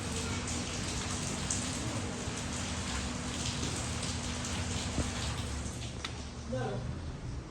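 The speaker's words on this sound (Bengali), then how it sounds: "বৃষ্টি হচ্ছে।" Steady rain pours outside, a dense continuous hiss of drops on surfaces that stays even throughout, with a faint voice heard briefly under it.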